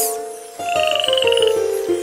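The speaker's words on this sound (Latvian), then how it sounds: "3 vardes." Frog croaks in a children's song: a quick run of evenly spaced, rhythmic croaks over a sustained musical tone, loud and close, with no speech.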